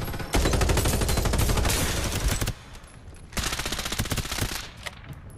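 Loud sustained bursts of rapid automatic gunfire in the video game Farlight 84: one long burst, a short pause, then another long burst.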